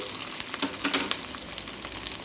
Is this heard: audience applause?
no